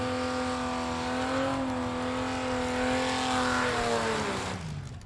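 A brand new 1963 Volvo H/Gas gasser drag race car holds a loud, steady high-revving engine drone at full throttle at a drag strip, pitch nearly constant before dropping away as the car recedes at the very end.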